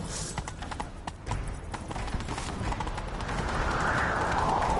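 Horses gallop in a chase, their hoofbeats rapid and fairly close under a busy, rising background din that builds toward the end.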